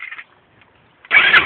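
A Yamaha Grizzly ATV, its engine already hot from riding, fires up abruptly after a brief quiet pause, its loud, close engine roar cutting in near the end.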